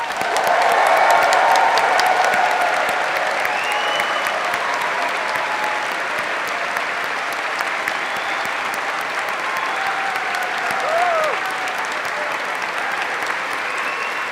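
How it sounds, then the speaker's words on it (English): A graduation ceremony audience gives a long, loud round of applause with some cheering mixed in, a dense sustained wash of clapping that swells early and holds steady throughout. "I'd like to ask you all to offer a final round of applause to recognise your achievements"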